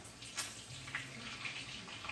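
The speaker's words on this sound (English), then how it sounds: "I'm going to pour some of this grease up." Bacon grease pouring out of a frying pan, a faint, soft liquid trickle with small splashy bursts over about two seconds.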